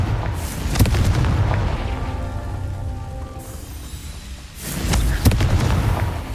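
In Hogwarts Legacy, the Confringo fire spell bursts into booming explosions: a heavy blast with crackling debris, a lull of rumbling ambience, then another pair of loud impacts near the end.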